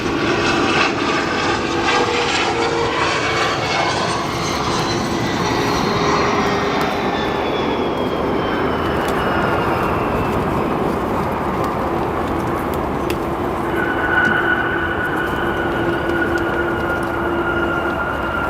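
A CRJ 200 jet lands on runway 10 Center at O'Hare, its engine roar steady and loud throughout, with whining tones sweeping down as it passes and touches down.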